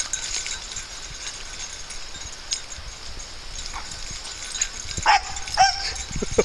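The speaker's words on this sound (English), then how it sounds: "you've got a unique bark" Dogs playing outdoors over a stick give a few short, high barks and yips partway through, faint to moderate against a quiet background.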